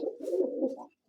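White double-crested pigeons give a single close, clear coo lasting almost a second, with no other sound around it.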